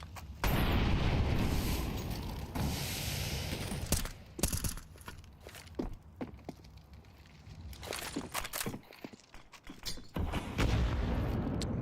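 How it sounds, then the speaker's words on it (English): A grenade detonates in a Counter-Strike match: a sharp, loud boom followed by scattered gunshots and pops that come and go in bursts, with no talk over them. "Another good grenade."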